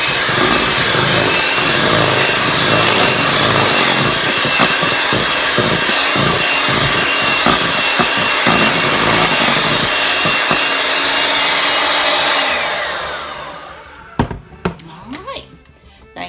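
Electric hand mixer whirring steadily as 1.5 teaspoons of pure vanilla flavoring is beaten into coconut cake batter, a loud continuous drone with rattling bumps that winds down and stops near the end, leaving a few faint clicks.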